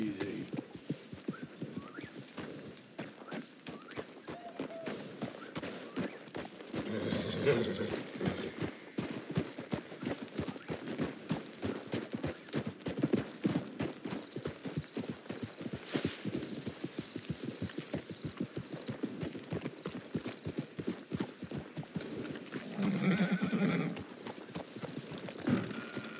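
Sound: horse hooves and whinny in video game Red Dead Redemption

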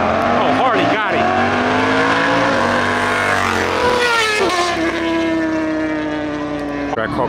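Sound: Track Hawk car doing a burnout, tires squealing

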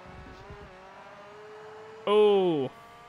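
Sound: race car engine revving in the video game Forza Motorsport

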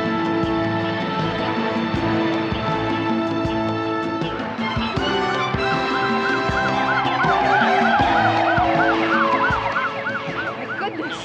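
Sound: ambulance siren

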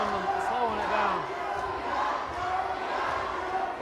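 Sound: Spearman basketball crowd cheering

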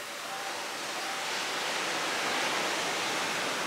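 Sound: ocean waves at a beach resort

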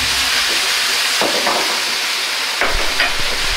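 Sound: mapo tofu sizzling in a pan over high heat

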